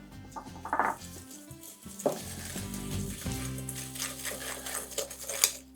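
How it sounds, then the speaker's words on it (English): Four egg yolks whisked by hand in a bowl, a soft, quiet, steady clicking and scraping of the whisk against the bowl, fairly close, with no talking. "I've got 4 egg yolks just into a bowl, and if we just start to whisk them a little"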